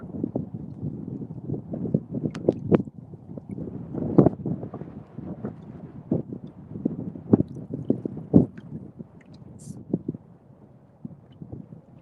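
Wind gusts across the Susquehanna River in a steady low rumble, with scattered light knocks and bumps from a fishing spot on the water. The sound is moderate and continuous, and no one speaks.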